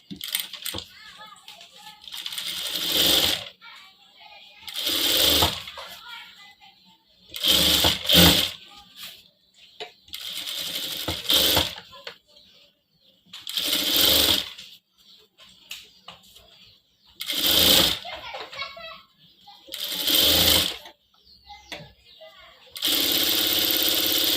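A sewing machine stitching a bridal silk saree blouse back neck runs in repeated bursts of a few seconds each, with short pauses between them.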